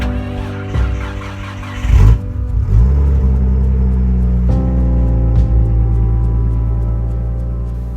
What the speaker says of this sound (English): You connect the battery up, turn the ignition on, and I mean, this thing's not been started for 6 months